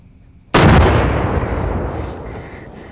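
A single sharp, loud gunshot rings out in a field during a hunt, with a long echoing decay trailing off over a couple of seconds.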